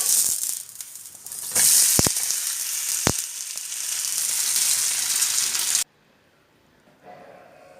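Dill leaf dosa sizzling and frying in oil on a pan, a steady loud crackle with a few sharp clicks, then cut off abruptly as the lid closes, leaving a faint muffled hiss.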